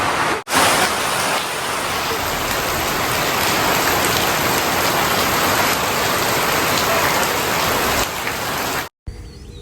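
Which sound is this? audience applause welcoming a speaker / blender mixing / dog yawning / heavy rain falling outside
heavy rain falling outside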